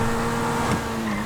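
A sports car in GTA V drives with a steady, close engine hum and a slight surge near the middle of a very short burst, with no talking.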